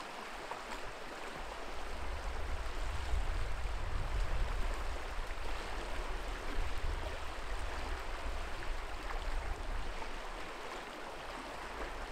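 Small stream at a fishing spot flowing in a steady broadband rush, close and continuous, with no voices over it.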